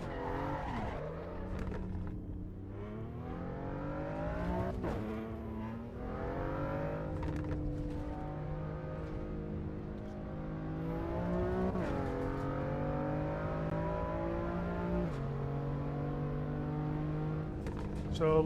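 A race car in Assetto Corsa Evo circles the Nordschleife, its engine climbing and dropping through the gears with loud, clear whining pitch sweeps and brief tyre squeal, while a voice talks over it throughout.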